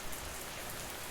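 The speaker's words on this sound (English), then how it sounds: "Let the soothing rain calm your mind as you listen." Steady soothing rain falling on a surface, a soft continuous hiss of drops with no talk, even and unbroken throughout.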